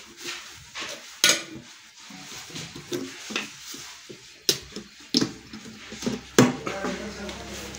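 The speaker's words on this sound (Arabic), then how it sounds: "هحط بقى المصلب في الخانه اللي بعدها عند رقم 4." Metal cooling rack set into a numbered shelf slot of a home oven, giving several sharp clanks and rattles spread across the stretch, with quieter handling sounds in between.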